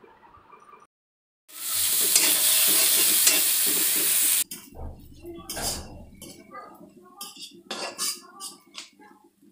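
Whole cumin and coriander frying in oil in a kadai. A loud burst of sizzling gives way to spoon scrapes and clinks against the pan as the spices are stirred.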